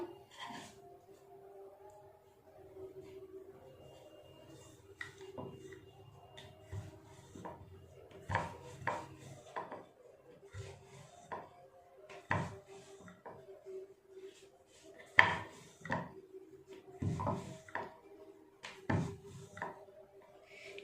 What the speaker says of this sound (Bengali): এবার শুকনো ময়দা দিয়ে বেলে নেব